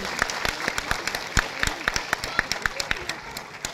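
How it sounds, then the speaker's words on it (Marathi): An audience claps for drama club performers after a play, a lively round of close applause with sharp individual claps in a quick, uneven rhythm. "कलाकार एकदा जोरदार टाळ्या होऊन जाऊ द्या सगळ्यांसाठी."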